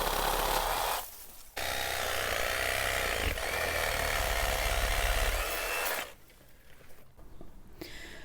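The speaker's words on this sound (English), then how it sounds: "This is a Ryobi chainsaw, a mini chainsaw. It's a 10-inch chainsaw" A Ryobi 10-inch mini chainsaw cuts low through thick dappled willow trunks with a loud, steady buzzing whine. It briefly cuts out once, then runs on before dropping to a quieter idle.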